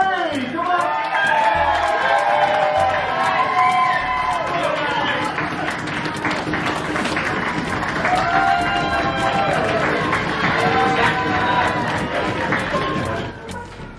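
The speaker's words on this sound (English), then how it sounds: "please give a big warm round of applause for the father of the groom, which Harry!" Wedding guests at a reception at a hotel in Chislehurst keep up loud, steady applause and cheering for the father of the groom, with whoops and crowd noise running continuously before fading near the end.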